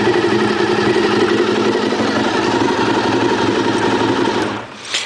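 A cold 1996 Honda RVF 400R NC35 with a V4 engine and carburetors idles slowly and steadily close by, a busy buzzing drone that cuts off abruptly near the end.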